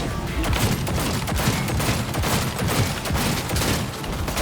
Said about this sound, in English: I'm gonna kill you with Johnny's gun